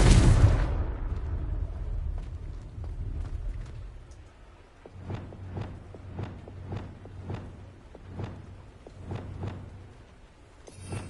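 A Confringo blasting spell in the video game Hogwarts Legacy opens with a loud, broad explosive burst that fades, followed by a row of evenly spaced softer thumping pops.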